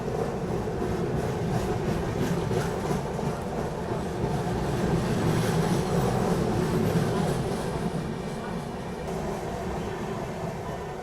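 The Satyagraha Express overtakes on the dedicated freight corridor, heard from aboard a special passenger train as a steady, close rolling rumble with faint wheel clatter that lasts throughout.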